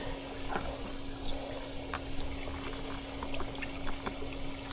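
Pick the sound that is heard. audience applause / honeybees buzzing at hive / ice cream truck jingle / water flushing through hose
water flushing through hose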